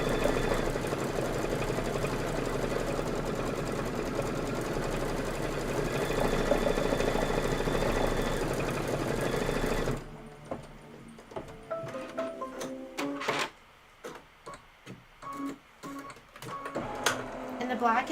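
Embroidery sewing machine stitching black thread on a Kimberbell project: a steady, fairly loud mechanical hum and buzz for about ten seconds, then stopping, followed by quieter scattered clicks and handling noises.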